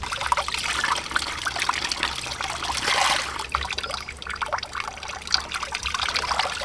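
Spring water runs down from a mountain beside a shrine, a continuous close trickle and splash with no voices.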